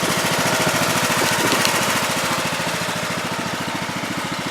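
Craftsman LTS2000 lawn tractor engine running close by with a loud, steady rapid chugging drone and a faint whine from the CVT pulley riding on top.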